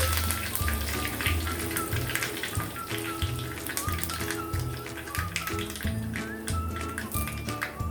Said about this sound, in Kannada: ಸಾಸಿವೆ ಕಾದ ನಂತರ ಕರಿಬೇವನ್ನೆಲ್ಲ ಹಾಕೊಂಡಿದ್ದೀನಿ